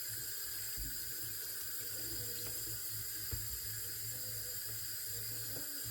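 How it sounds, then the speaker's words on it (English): Tomatoes being washed under a running kitchen tap, a steady, fairly quiet rush of water with faint handling sounds, no talk. "we wash carefully and thoroughly our tomatoes"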